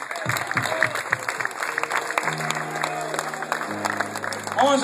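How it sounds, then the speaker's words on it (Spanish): Crowd applause and cheering at a heavy metal concert in Buenos Aires, a loud, ragged mass of clapping and shouts from the audience between songs, with sustained amplifier tones ringing underneath and a brief louder swell at the end. "Aplauso para ustedes."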